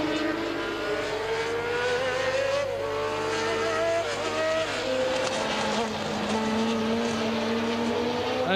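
Formula 1 race cars at the 1981 German Grand Prix scream past with high, whining engines rising and falling in pitch, a steady continuous roar with no voices.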